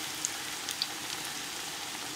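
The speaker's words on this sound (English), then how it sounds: "it's important when you're doing tempura not to overcrowd the pan, and that goes for anything that you're frying." Tempura fries in a pan of hot oil, a steady fine sizzle with a few sharper pops, fairly close and heard alone without talk.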